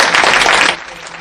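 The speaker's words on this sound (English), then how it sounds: "One more round of applause." Audience applause after a talk on slowing the aging process, a short loud burst of clapping that cuts off quickly into a quieter room.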